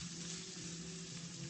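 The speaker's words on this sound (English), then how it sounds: "So we're going to saute that until it's brown." Garlic sautéing in a hot pan gives a steady, close sizzle with a low hum running under it for the whole short stretch, and no voices are heard.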